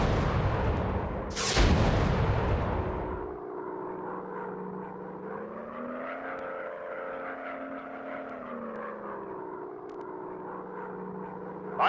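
A WW2 warplane in the Warplanes: WW2 Dog Fight video game fires rockets in a loud burst that trails off, leaving a steady droning propeller engine hum that swells and dips.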